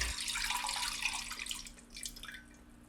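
Orange juice pours steadily into a pan with a splashing, running-liquid sound that gradually tapers off toward the end.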